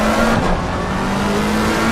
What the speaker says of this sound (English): Oh, he's got a pretty loud engine on the inside there.